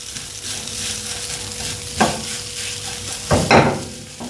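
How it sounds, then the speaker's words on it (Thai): Steady frying hiss of rice being dry-roasted in a pan, with a few louder scraping stirs near the end, close and continuous. "ผมจะคั่วให้ข้าวมันหอมกระทะก่อน"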